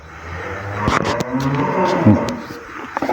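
A pregnant cow moos loudly and close by, a long low call with some rustling and brief knocks around it.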